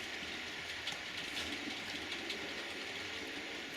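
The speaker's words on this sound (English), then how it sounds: "There's been a train past." A train passes at a distance beyond a garden: a faint, steady rumble with a light rolling clatter throughout and no voices.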